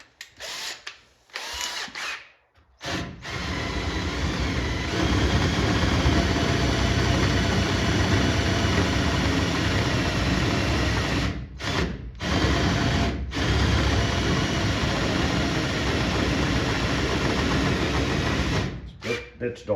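Power drill with a 1/2-inch bit boring into the trunk panel of a 1959 Chevy Impala convertible, a loud, long grinding whir with a few brief stops, close up, after some opening handling noise.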